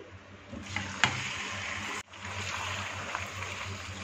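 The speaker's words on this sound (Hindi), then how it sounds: "इसको गोल्डन कलर आने तक अच्छे से फ्राई कर लेंगे।" Bone-in chicken, about a kilo, sizzles in roughly half a cup of hot oil in a pan, a steady close crackling fry with a brief stir clatter and a short pause midway.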